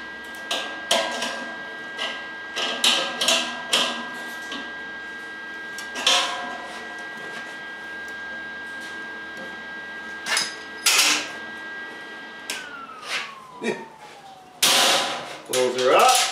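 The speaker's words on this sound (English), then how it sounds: "Okay, well, she's all welded up. Let's bolt this back together." Metal clanks, knocks and rattles sound as a welded peat moss spreader is bolted back together, with scattered sharp hits, short pauses and a brief ratcheting whir near the end.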